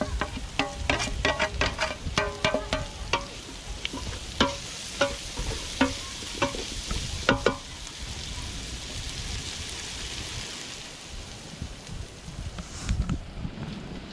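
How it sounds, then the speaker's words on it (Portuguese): Small potatoes go into a pot over an outdoor wood fire on a rainy day: a quick run of sharp knocks and clunks, then a steady hissing bubble, with another brief clatter near the end. "Agora eu já vou adicionar minhas batatinhas"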